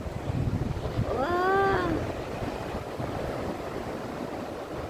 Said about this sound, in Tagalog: Makas na ang alon kasi may barko doon.